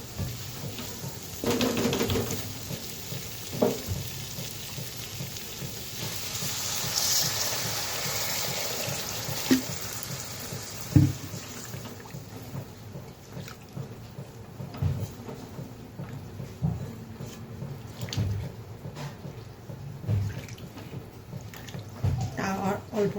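Water is added to a pan of fried spice masala and potatoes for a Bengali kabuli chickpea recipe, giving a soft pouring gush under ongoing talk, with a few clinks and small bumps.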